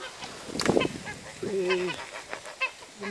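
Geese of an old breed from the Marais Poitevin honk nearby in a few loud, nasal bursts, with other fowl calls and faint talk mixed in.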